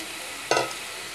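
A short burst of stirring as boiled mutton is turned through fried tomato and onion masala in a pan, a single brief scrape and sizzle rising out of quiet background.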